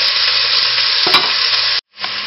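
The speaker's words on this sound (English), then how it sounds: "now we'll brown up the meat" Lamb meat for stew browning in a hot pan, giving a loud, continuous sizzle with a brief stir partway through and a short break near the end before the hiss resumes.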